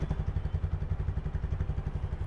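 A used 4V motorcycle with only about 5,000 km and a fresh, like-new engine idles close by, a steady, even, rapid low-pitched pulsing thump with no other sounds.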